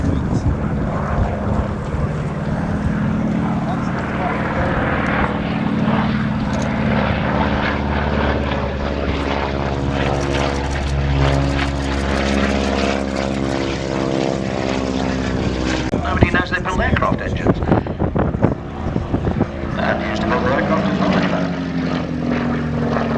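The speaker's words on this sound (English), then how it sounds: "I'm going to see the Gladiator fly today" Gloster Gladiator biplane flying overhead at an airshow, its propeller engine droning loudly and shifting in pitch as it passes, with people talking nearby.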